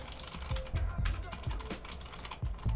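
Typing on a Redragon K556 Pro TKL aluminum hot-swap keyboard with quiet keycaps gives soft, muffled, close keystrokes in an uneven flurry, with a voice talking over them.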